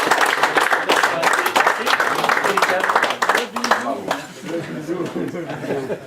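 A crowd at a predator-fishing prize ceremony claps for the winners, a dense burst of applause that thins out midway as voices and chatter take over.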